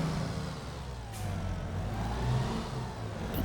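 Tractor engine revving in the Farming Simulator 22 video game, a steady mid-pitched drone that swells and eases slightly over a few seconds, with no talk.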